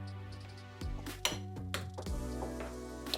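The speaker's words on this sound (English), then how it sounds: "And we're gonna give this a good mix." Spoon clinking and scraping against a bowl while refried beans, pizza sauce and taco sauce are stirred together, a few sharp knocks and clatters standing out close by.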